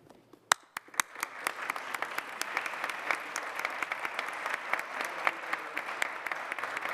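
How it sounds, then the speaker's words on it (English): A round of applause fills a city council chamber as the minority leader is elected, starting with a few sharp claps and building into steady clapping from a modest crowd. "It was a nice round of applause"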